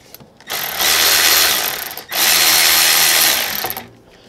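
An electric power tool spinning out the brake caliper bolts on a 2018 Subaru Crosstrek's rear brakes, two loud close whirring bursts of about one and a half seconds each, separated by a brief pause.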